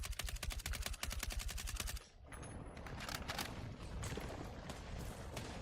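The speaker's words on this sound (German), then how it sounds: "Feindliches MG!" Enemy machine gun fire rattles in rapid, loud bursts in Battlefield 6, giving way after about two seconds to dense scattered gunshots and battle noise.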